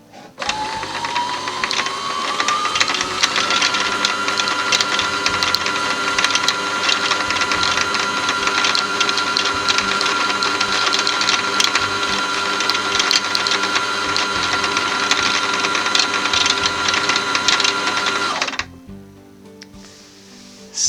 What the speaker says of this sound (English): So I put the machine into full speed.